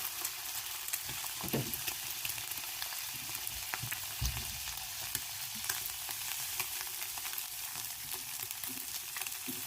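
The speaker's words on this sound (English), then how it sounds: "You cook the egg in the butter over here" An egg frying in butter in a pan, with a steady, continuous sizzle throughout and occasional soft clicks and taps of cookware, no talking.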